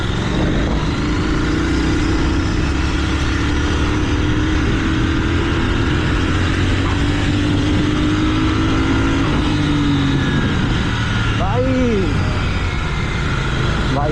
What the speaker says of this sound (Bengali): বাইকের টান মারলে বাইকটা দৌড়াতে শুরু করে।